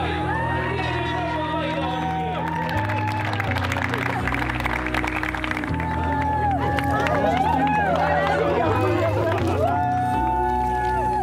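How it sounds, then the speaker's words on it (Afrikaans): Wedding guests applauding newlyweds Mr. and Mrs. van Wyk, with sustained clapping, cheering and crowd chatter running steadily throughout over a background of music. "So vir die eerste keer, meneer en mevrou van Wyk, kan ons vir 'n hande klap gee."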